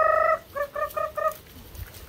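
A chicken gives a loud call followed by a quick run of four clucking, gobbling notes, close by in the countryside of Bukidnon, then quiet.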